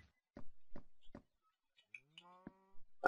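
Minecraft cows on a farm: a few short thumps or hits, then a single clear, fairly close moo with a rising harmonic tone, then another sharp hit.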